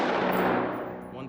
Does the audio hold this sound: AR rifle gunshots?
yes